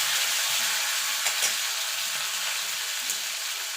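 Chopped tomatoes frying in hot oil with tempering spices for masoor lentil dal, a steady close sizzle with faint occasional stirring scrapes and no talking.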